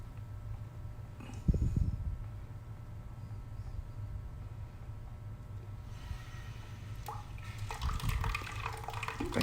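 Water drains from a pneumatic air tank, with a low steady trickle and gurgle, a sharper splash burst early on, then a louder spitting, hissing release toward the end.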